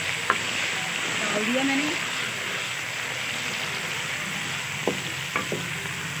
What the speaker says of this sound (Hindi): ऑयल गर्म हो चुका है। अभी मैं बड़े साइज़ का एक प्याज डालने लगी